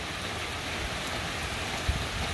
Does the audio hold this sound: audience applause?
no